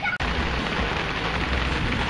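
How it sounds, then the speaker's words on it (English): Heavy rain pours down steadily during a summer storm, a dense, continuous hiss close to the microphone that holds evenly throughout, broken only by a brief cut near the start. "It's really raining now."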